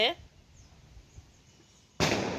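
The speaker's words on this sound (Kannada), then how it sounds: "ಪಟಾಕಿ ಹಾರ್ಸಕತ್ತಾರ ಇವರು" Firecrackers set off at a family home: a faint noisy stretch after a brief sound at the start, then a sudden sharp, loud burst near the end.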